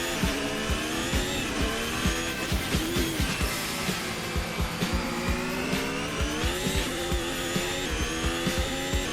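Race car engine in an F1 racing video game revving hard with rapid, rhythmic pulses and a steady high whine, loud and continuous, as the wheels spin under acceleration.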